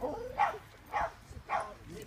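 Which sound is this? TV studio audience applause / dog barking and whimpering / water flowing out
dog barking and whimpering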